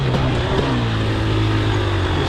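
A dirtbike engine gives a short throttle blip, a steady close-up mechanical drone with a rising and falling tone that fills the whole moment, no voices over it.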